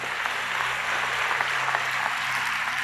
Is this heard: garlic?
no